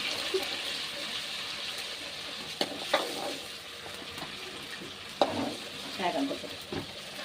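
Turmeric crackles and sizzles in hot oil for a goat head curry, a steady close frying hiss broken by a few sharp spoon clacks and stirring scrapes.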